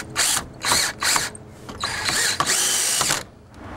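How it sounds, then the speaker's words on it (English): A power drill drives fasteners through a composite deck rail system into a post, in several short whirring bursts followed by a longer run, close and loud. "now just fastening in the rail system into the post."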